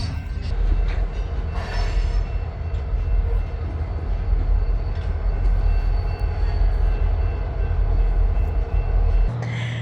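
A train rumbles past close by, loud and steady, with wheels screeching and clattering along the rails before the noise cuts off abruptly.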